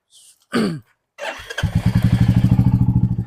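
A six-month-old motorcycle with about 5,440 km on it is started at a bike showroom: a couple of thuds and a starter whirr, then the engine catches and settles into a fast, loud, steady idle putter close by.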